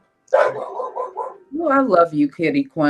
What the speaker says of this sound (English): And I'm so sorry about the dog.